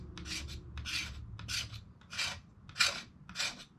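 A general-purpose outdoor knife edge shaves thin, long curls from a stick of fatwood, making six close, dry rasping strokes in a steady rhythm with short pauses between them.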